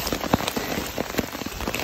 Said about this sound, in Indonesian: Kehujanan.